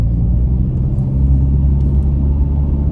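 A car engine rumbles steadily while driving around a roundabout, a loud, constant low drone from inside the cabin with a few faint ticks on top and no speech.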